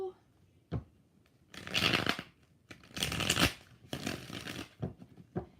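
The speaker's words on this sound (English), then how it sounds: "One more shuffle." Tarot cards being shuffled by hand in three distinct riffling bursts of about a second each, close and crisp, with quiet pauses between.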